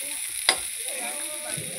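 Potato and cauliflower fry in a pan with a steady, even sizzle, broken by one sharp clack of a spatula against the pan and a softer stir later on. Close, with no talk.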